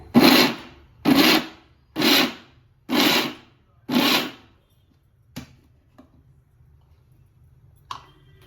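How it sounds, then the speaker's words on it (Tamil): A mixer grinder pulses palmyra sprout tubers in its jar, giving five short loud bursts about a second apart, followed by a few faint knocks and near silence. "இந்த கிழங்குகளை எடுத்து மிக்சி ஜாரில் போட்டுக்கலாம் பாருங்கள் நான் பல்ஸ் தான் போடுறேன்"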